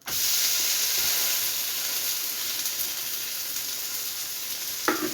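An onion dosa sizzles and fries on a hot pan after being flipped, a steady close hiss that is strongest at the start and eases slightly, with a brief clatter near the end.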